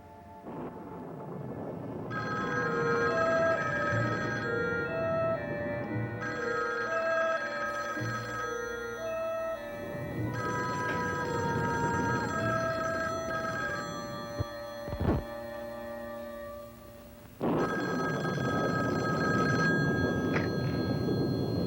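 An old-style telephone rings in repeated bursts with pauses between, fairly close and loud, over a steady background hum; nobody speaks.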